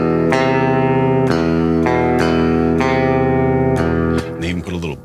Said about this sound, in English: the main riff here, I'm going to be having to switch between a clean and distortion